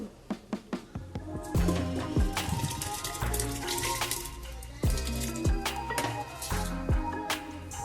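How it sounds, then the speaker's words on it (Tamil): Water poured from a vessel onto soaked, drained rice in a cooker for coconut milk rice, a gushing, splashing pour with a few sharp knocks and clatters at the start, close and fairly loud with no talk. "இப்போது நம்ம தண்ணி அரிசியில் போடலாம்"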